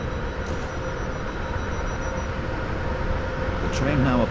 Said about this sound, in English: This train is now approaching Benton. This train terminates here.